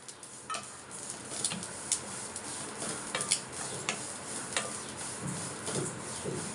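Sesame seeds dry-roasting in a kadai (wok) over medium flame for jaggery sesame laddu, stirred with a utensil that scrapes and taps the metal in an irregular, close-up rhythm.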